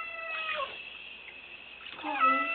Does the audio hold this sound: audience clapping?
no